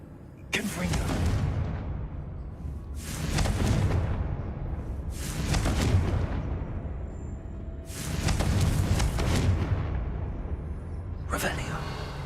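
The Confringo blasting spell in Hogwarts Legacy sets off four loud, bursting explosions spaced a few seconds apart, each decaying into a rumble. A fifth blast begins at the very end, and a voice talks in between.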